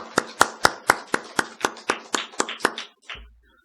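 A small church congregation claps to welcome newcomers during a Sunday worship service, a quick run of about a dozen sharp, fairly close claps in steady rhythm that stops abruptly, with no talking.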